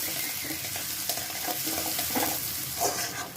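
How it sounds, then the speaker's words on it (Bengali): Steady crackling sizzle of chopped onions frying in hot oil, close and continuous, with occasional scraping stirs. "তেল গরম হয়ে গেছে দিয়ে দিলাম কুচনো পেঁয়াজ"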